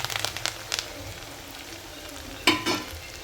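Chickpeas for chana koliwada crackle and sizzle in hot frying oil, a constant close hiss with a few sharper spatters and clinks popping out.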